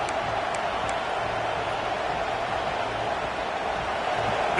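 A college football stadium crowd roars in a steady, broad wash of distant cheering and noise, with no clear individual voices standing out.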